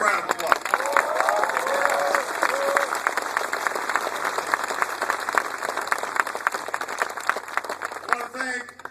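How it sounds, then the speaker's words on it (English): Sustained audience applause with cheering fills a large gathering at Fort Stewart for a presidential speech, steady dense clapping throughout, with a few voices rising over it. "Give him a big round of applause."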